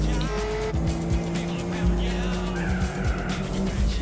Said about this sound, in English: Shit, I downshifted way too early there.